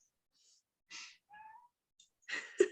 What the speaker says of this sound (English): I heard your cat agreeing in the background